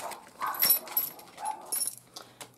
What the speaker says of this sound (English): Sorry if you hear barking in the background.